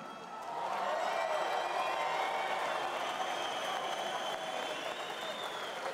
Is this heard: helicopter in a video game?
no